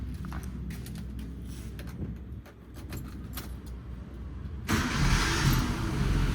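Keys rattle and click briefly, then a Suzuki Katana JDM car engine cranks and catches, settling into a steady idle rumble close by.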